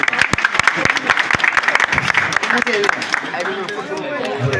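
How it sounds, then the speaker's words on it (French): Audience applause at a village gathering with officials in Senegal, dense loud clapping filling the whole stretch, with faint voices mixed underneath. "il faut l'accompagner avec des applaudissements"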